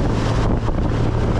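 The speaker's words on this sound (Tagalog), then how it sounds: "Sobrang lakas ang hangin, no?" Strong wind buffets the microphone on a fishing boat heading home at sea, a steady loud roar of gusts with no talk over it.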